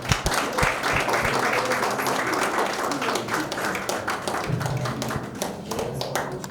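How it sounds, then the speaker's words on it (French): An audience at an association election and handover ceremony applauds in a dense, sustained wash of clapping that holds steady and loud throughout. "Veuillez les applaudir, s'il vous plaît."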